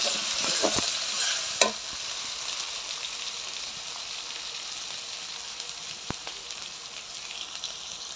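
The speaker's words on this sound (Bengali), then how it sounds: "এখন হালকা করে নেড়ে দেব যাতে না পুড়ে যায়।" Ginger-garlic paste frying in a pan and being gently stirred, heard alone as a steady sizzle that is busier at first, with a sharp spoon knock and occasional light taps.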